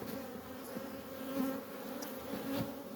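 Honeybees from an opened first-year hive, fed through an inner feeder during a dearth, swarm close by with a steady, dense buzz that swells and fades slightly as they move around.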